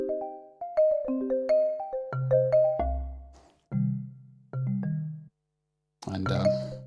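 Roland JV-1080 synthesizer playing a church bell patch: a series of struck, ringing bell-like tones at varied pitches, some overlapping, with short gaps between phrases and a final dense, brighter chord.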